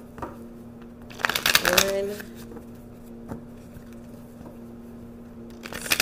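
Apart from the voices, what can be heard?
shuffling tarot cards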